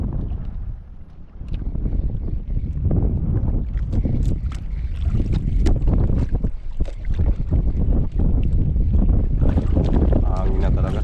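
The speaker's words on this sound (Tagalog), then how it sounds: "Hangin na talaga." Strong wind buffeting the microphone aboard a small fishing boat at sea off Palawan, loud gusty roaring that surges and drops, with splashing and occasional voices underneath.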